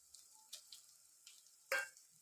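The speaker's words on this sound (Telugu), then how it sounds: "ఇప్పుడు ఈ పోపు అనేది మంచిగా మనకి వేగాలి." Mustard seeds, cumin and dry red chillies fry in hot oil as a tempering for tomato dal, giving faint, sparse sizzles and pops and one louder crackling burst near the end.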